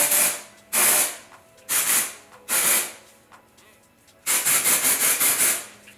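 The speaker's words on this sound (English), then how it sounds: "So I'm going to pop in some dry shampoo." Dry shampoo sprayed onto short, fine hair in several loud, close hissing bursts, with three short sprays, then a longer pulsing spray at the end, with no speech.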